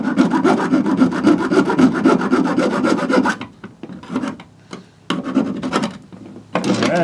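Hand file sharpening the points of Italian-made Grivel mountaineering crampons, a steady run of loud rasping back-and-forth strokes, then shorter separate scrapes with gaps between them.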